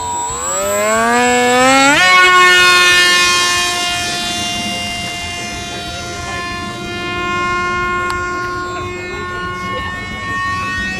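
Electric motor of a HobbyKing Nino Clownfish 850mm EPP RC plane spinning up for a hand launch, a loud rising whine that jumps in pitch then holds a steady high drone as it flies off.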